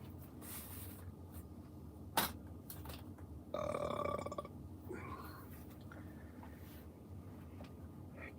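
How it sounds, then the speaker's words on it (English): A belch rumbles out close to the mic in a quiet room, one drawn-out burp lasting about a second, with a few faint clicks and small noises around it. "after belching just so profusely"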